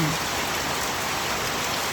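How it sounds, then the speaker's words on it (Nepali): Heavy rain pours down in a dense, unbroken roar, loud and close, with no gaps. "पानी चाहिँ कति साह्रो परेको हो का।"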